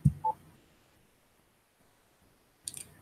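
A single short phone-dialing tone beeps in the IFSCL video game as a number is typed, followed by near silence and a brief burst of clicks at the end.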